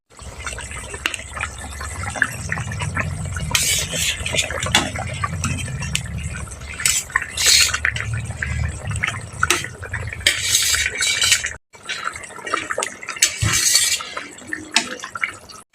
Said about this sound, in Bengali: এখন আমি দিয়ে দেবো ভেজে মাছ ভেজে রাখা মাছগুলোকে